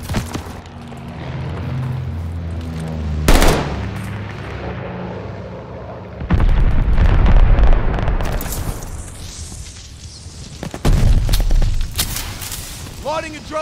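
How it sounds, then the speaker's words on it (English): Bombing-run explosions in Call of Duty: Vanguard hardcore Domination multiplayer on the Oasis map: several loud, heavy booms with rumbling tails, one sharp blast followed by two longer roaring barrages over steady battlefield noise. "Friendly bombing run on the way"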